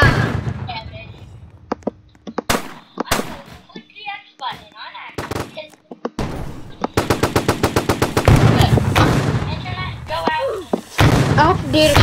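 Gunfire in the Roblox game: scattered loud single shots give way to long rapid automatic bursts, close and punchy, with players talking between and over the shooting.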